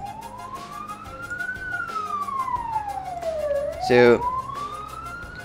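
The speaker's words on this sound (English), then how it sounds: "there's an ambulance or something" An ambulance siren passes outside, its loud wail sweeping slowly up and down, with a brief burst of voice-like noise partway through.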